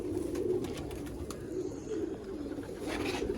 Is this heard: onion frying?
no